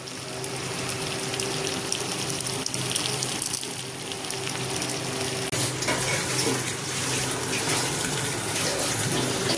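Bele fish fries in hot oil in a pan: a dense, continuous hiss of frying that stays fairly loud and steady, heard alone without speech.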